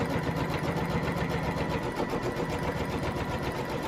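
An embroidery machine stitches an outline onto a hooped shirt, a rapid, even mechanical chatter running steadily and close with no talking.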